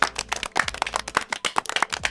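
Scattered hand clapping at a small local event, sharp uneven claps from a few people close by, quick and irregular, with no sustained crowd roar.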